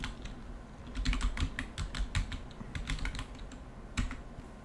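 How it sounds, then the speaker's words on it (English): Password being typed on a computer keyboard during a Proxmox cluster setup: a quick run of crisp, close keystrokes in irregular bursts, with short pauses between them. "I actually have to fill in the password myself."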